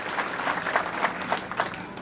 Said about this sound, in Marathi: एकदा टाळ्या वाजवून त्यांचं सुद्धा अभिनंदन आपण करा